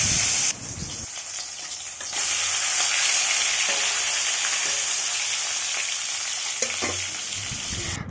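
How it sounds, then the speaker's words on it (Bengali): Bhetki fish frying in a pan, a loud dense sizzle and spatter that surges up after a brief quieter start and holds steady, close by with no talking. "আমি ভেটকি মাছগুলো ভেজে নিচ্ছি"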